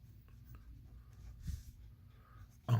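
Pen or pencil writing by hand on paper, a faint steady scratching across the clip with a louder scrape near the end.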